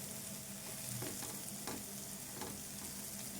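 Chili powder is stirred into a dried fish curry in a pan, a quiet continuous sizzle with a few soft scraping strokes of the spoon, close and without voices.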